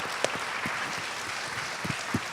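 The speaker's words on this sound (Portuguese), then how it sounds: "Mais uma salva de palmas para eles agora, para encerrar." An audience applauds at the close of a literature festival talk, steady, moderately distant clapping from a crowd with a few sharper individual claps standing out.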